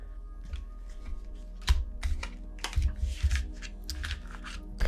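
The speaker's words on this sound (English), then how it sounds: "I'm going to shuffle it up a bit." A deck of tarot cards is shuffled close up in quick bursts of riffling and soft snapping taps, irregular and uneven, with brief pauses between handfuls.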